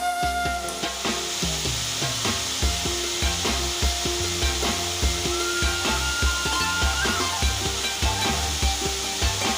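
Fish curry seasoned with turmeric and salt is stirred in a hot pan, giving a steady sizzle with scraping strokes throughout, mixed with tonal background music.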